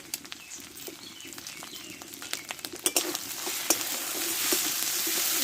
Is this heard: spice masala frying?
yes